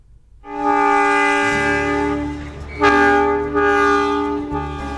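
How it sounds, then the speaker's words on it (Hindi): A passenger train runs along the rails with a steady rumble, a sustained loud horn blast and metallic rolling noise, fairly close and with no talk. "सूनी पड़ी पटरियों पर फिर से छुक छुक गाड़ी दौड़ेगी"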